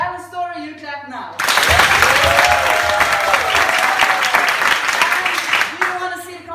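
A theater audience in Stockholm breaks into loud, sustained applause to vote for a story during a class show, with a voice talking briefly before the clapping starts and cheering mixed in.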